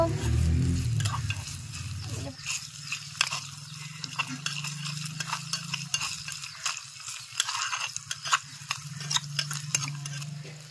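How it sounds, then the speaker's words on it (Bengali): Green chili, carrot and garlic fry in a pan with a steady, crackling sizzle, broken by light scrapes and taps of stirring, over a low background hum. "আর এখন আমি ভালো করে একটু ভেজে নেব।"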